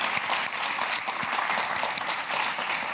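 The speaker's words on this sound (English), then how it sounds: "I do want you to join me in applauding Beauclerc and all his colleagues." An audience applauds at the closing address of the Oxford Africa Business Forum 2024, a steady, dense wash of clapping that holds evenly for the full three seconds with no voices on top.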